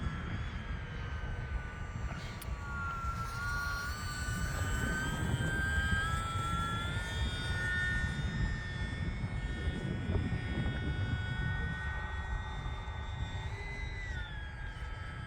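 A small E-flite UMX Pitts S-1S electric model airplane on a 3S battery buzzes overhead with a high whining motor tone that rises and falls in pitch as it passes, over a steady outdoor rumble.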